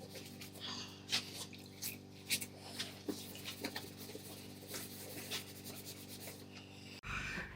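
A sponge scrubs a mannequin clean with soft, close rubbing strokes in irregular bursts over a faint steady hum, ending in a sudden brief knock.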